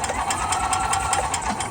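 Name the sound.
gas golf cart engine starting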